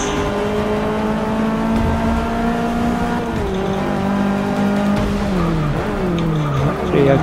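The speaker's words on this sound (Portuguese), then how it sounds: "Frear aqui só pode dar ruim, fazendo drift." A race car drifts in the Forza 6 racing game, its engine roaring continuously and rising and falling in pitch. Tires squeal and skid as the car slides through a corner.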